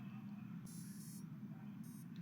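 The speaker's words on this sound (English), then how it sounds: "So there's the beeps for its startup phase." Two faint high electronic beeps from quadcopter ESCs at startup, the first longer and the second shorter, over a low steady hum.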